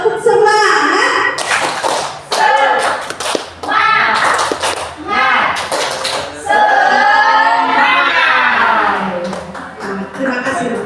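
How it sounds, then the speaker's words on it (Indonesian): An audience of teachers joins in a rhythmic 'tepuk semangat' clapping chant during a positive-school-culture session, with sharp clap bursts mixed into loud group chanting voices throughout. "Tepuk semangat."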